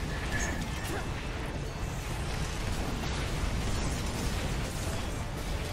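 Rocket launcher fire in the video game Earth Defense Force 4.1 blends into a dense, continuous roar of explosions and battle noise that stays loud and unbroken throughout.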